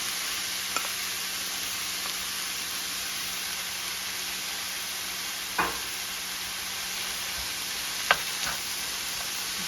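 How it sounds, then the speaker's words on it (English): Chopped spinach goes into a sizzling garlic butter sauce with shrimp and lemon, a constant soft frying hiss broken by a few sharp clicks of a utensil against the pan. "Now we are adding our chopped spinach."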